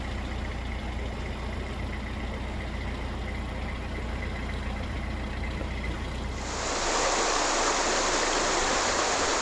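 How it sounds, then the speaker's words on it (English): Water pours through the bywash of a canal lock, a steady rushing flow under a low engine hum that swells abruptly into a loud, close roar near the end. "Looking at the bywash of this lock"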